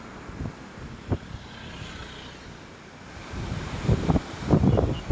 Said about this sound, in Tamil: தண்ணி பாருங்கள் என்ன ஸ்பீடு பாருங்கள் என்ன சுழல் அதெல்லாம் பாருங்கள்